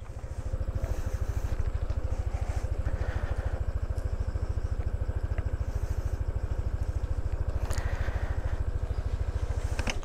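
A motorcycle engine idles steadily on a slippery, flood-damaged bridge, its low, even pulsing loud and close throughout, with faint wind and background noise above it.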